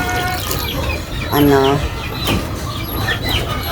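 A laying hen clucks near a farmyard, with a clear rising cluck burst amid chirping birds and low background rumble, while people talk over it.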